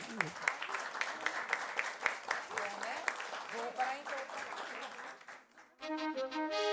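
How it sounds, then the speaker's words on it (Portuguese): Applause from the audience at a municipal chamber public hearing and lecture, a few seconds of scattered clapping that fades out before voices and other sound resume. "Uma salva de palmas."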